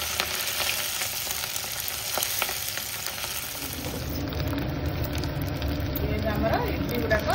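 Idli pieces deep frying in hot oil give a continuous crackling sizzle that grows fuller and bubblier partway through, close and steady.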